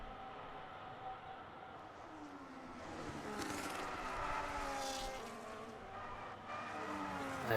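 Racing video game cars drift through corners on a circuit in Australia, a steady engine drone with rising and falling pitch sweeps and faint tire squeal, continuous at moderate distance.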